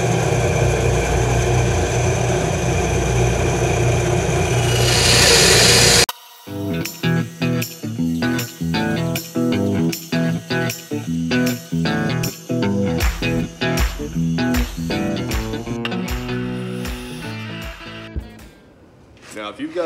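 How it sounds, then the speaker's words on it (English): A small bandsaw cuts wood for a DIY beehive frame jig, giving a loud, steady whirring rasp for about six seconds before it stops abruptly and rhythmic music takes over. "But I'm gonna use my bandsaw, be a little nicer."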